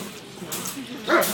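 A female search and rescue dog gives a brief, low growl that rises into a short whiny yip, heard close up over faint background voices.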